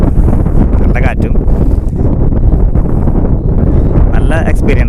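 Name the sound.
strong wind at Nelliyampathy hills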